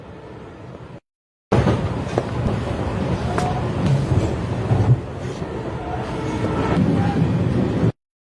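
A train runs in the film 13 (2010), a loud, close rumble with rattling rail clatter and squeaks, starting after a brief silent gap and cutting off abruptly near the end.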